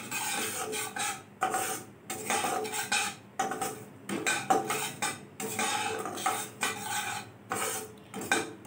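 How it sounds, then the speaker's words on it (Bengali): Semolina dry-roasts in a pan while a utensil stirs it steadily, making repeated gritty scraping strokes in a rhythmic back-and-forth pattern. The sound is close and clear, with no talking. "সুজিটা জাস্ট একটু হালকা করে আমি একটু ভেজে নেব।"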